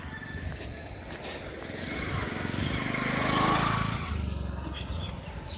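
A motorcycle engine approaches, swells to a loud peak, then fades as it passes by, with steady outdoor background noise.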